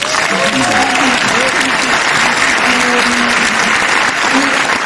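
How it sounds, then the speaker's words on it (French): Loud, dense applause from a large audience fills a film premiere hall, sustained and even, with murmuring voices and shouts blended into the clapping. "Vous pouvez applaudir aussi."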